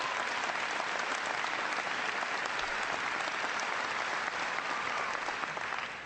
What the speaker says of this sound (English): Give Karen a big round of applause.